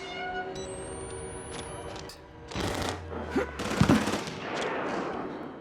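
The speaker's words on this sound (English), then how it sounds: "What are these shooting at?" Gunfire rattles out in Outlast: Whistleblower, loud bursts of shots that stand out in the second half against a droning ambient backdrop.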